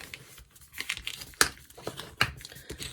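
Paper bag crinkles and rustles as it is folded in half and creased with a bone folder, with soft handling noises and two sharper crisp snaps.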